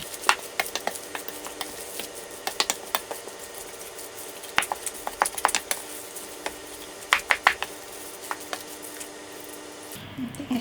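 Meatball mixture for a meatball casserole being mixed by hand in a bowl, with soft wet squelching and scattered clicks, a steady rhythm of stirring close up. No speech is heard.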